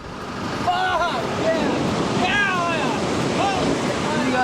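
Giant waves break along the California coast in a loud, continuous roar of surf and wind, with voices faintly audible beneath the rush.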